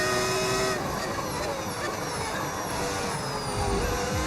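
A Formula 1 car from the F1 25 game drones steadily at high revs, a continuous whining engine tone with gliding pitch shifts as it shifts and accelerates, loud and alone with no talking.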